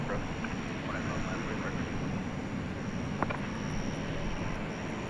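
An American Airlines Airbus A321neo in green livery at DFW Airport at night gives off a steady, distant jet-engine rumble that stays even and unbroken, with a faint high whine above it.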